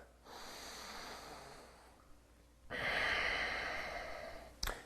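Close, audible nasal breathing during a yoga lunge: a softer inhale through the nose, a short pause, then a longer, stronger exhale, ending in a brief sharp sniff.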